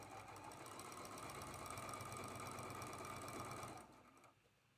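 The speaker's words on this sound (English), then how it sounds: "And sew that seam." A sewing machine stitches a quilt seam with a fast, steady whirring hum at low volume that stops abruptly near the end, leaving near silence.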